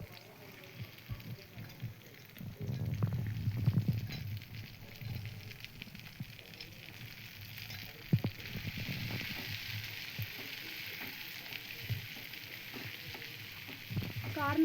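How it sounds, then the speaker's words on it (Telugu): Local field corn, not sweet corn, frying in hot oil in a kadai on a stove, a continuous broad sizzle with crackles and occasional stirring clatter throughout. "కార్న్ అయితే మంచిగా ఆయిల్లో ఫ్రై అయ్యేంత వరకు ఫ్రై చేసుకోవాలి."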